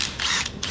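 A ratchet wrench with a 15 millimeter socket works on a Toyota CV axle, giving two short bursts of rapid, close mechanical clicking.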